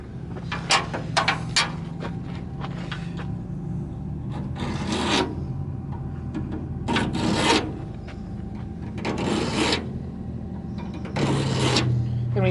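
A power steering pump line being cut on an off-road vehicle at Ocotillo Wells, heard as rough rasping strokes in separate bursts, close and fairly loud over a low background hum.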